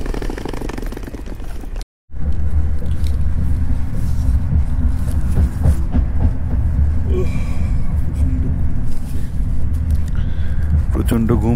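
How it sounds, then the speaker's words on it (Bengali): Afrosiyob high-speed train running from Bukhara to Samarkand, a steady loud low rumble filling the cabin throughout, briefly cut near the start, with people talking over it. "সেই বুলেট ট্রেনে এখান থেকে আমরা বুখারা থেকে সামারকান্দের দিকে যাচ্ছি"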